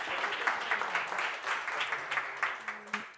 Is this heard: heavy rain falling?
no